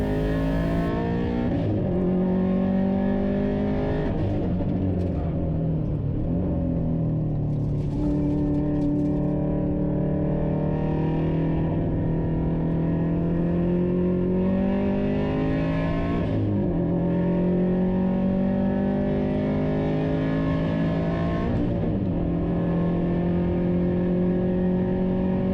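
A family wagon race car at Hampton Downs accelerating hard on track in poor grip, its engine rising in pitch through repeated revving sweeps as it shifts up into third gear, loud and sustained with no talk.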